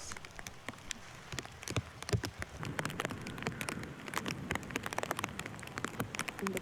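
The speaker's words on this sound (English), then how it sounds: "And look at that rain." Steady rain falls at an outdoor disc golf park in Lakewood, Seattle, a dense, continuous patter with scattered sharper drops hitting nearby surfaces, no voices over it.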